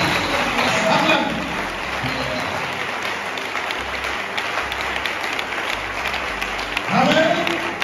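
A church congregation applauding in steady continuous clapping that holds through, with a preacher's voice rising over it at the start and end.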